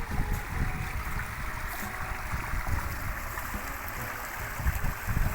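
Continuous flowing rainwater, a broad steady rush with gurgling, rumbling low tones, filling the whole stretch without pause.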